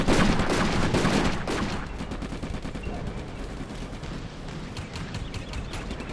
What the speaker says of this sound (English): Here, small arms fire. And of course the machine gun.